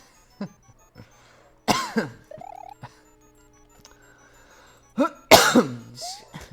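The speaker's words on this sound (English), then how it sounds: "That cough is mean, man." Several rough, harsh coughs burst out in short clusters with quiet gaps between, close by, alongside faint electronic beeps and tones.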